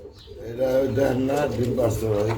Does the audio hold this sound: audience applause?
no